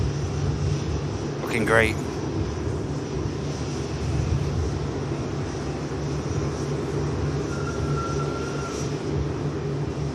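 An airliner on the Delhi flight at Manchester Airport gives off a steady, broad engine roar that fills the whole stretch, while someone speaks briefly over it near the start and a faint tone appears later.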